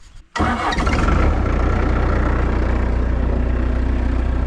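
An engine cranks and fires up quickly, catching after a brief burst and settling into a steady, loud rumbling idle close by, with no one talking.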